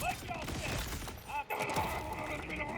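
Rapid pistol fire in the video game Borderlands 4 rattles off in dense bursts with a brief pause near the middle, mixed with impact and mechanical game effects.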